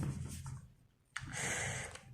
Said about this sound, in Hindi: यहाँ पर हम फ्रूट लिख दे रहे हैं